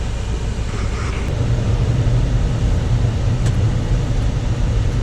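A Chrysler 200 drives off after a brake replacement, giving a steady low rumble of engine and road noise with a faint, even hiss and no voices.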